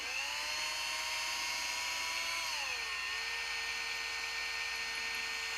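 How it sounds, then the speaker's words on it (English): A high-pitched power drill whines steadily, its pitch dipping partway through as it bites into a helmet camera mount, then holding lower. "So we're going to go ahead and drill that hole."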